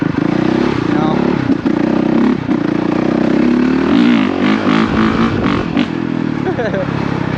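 A Honda CRF450RX dirt bike engine revs loud and close, holding a steady drone and then climbing and falling through several quick throttle blips, with a voice speaking over it.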